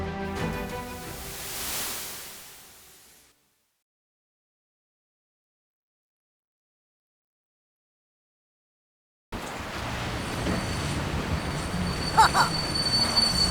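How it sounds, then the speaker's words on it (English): A train squeals and rumbles in a spooky board game trailer, a loud wheel screech that fades into several seconds of silence before steady rail noise returns. "There's a whistling from a train coming round the bend."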